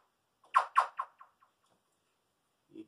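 Atmospheric sampled squeak-like sound with heavy delay, a sharp chirp followed by several quickly fading echoes, then a faint lower blip at the end; quiet and isolated.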